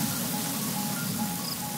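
Rain falls in the video game Yonder The Cloud Catcher Chronicles as a steady, even hiss of drops, continuous and moderately loud, with no talk over it.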